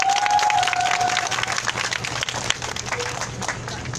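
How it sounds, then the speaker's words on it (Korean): Crowd at an outdoor weekly protest rally in Korea giving a round of applause, a steady moderate wash of clapping that holds evenly throughout, with a faint tone briefly audible at the start. "다시 한번 힘찬 박수 부탁드립니다."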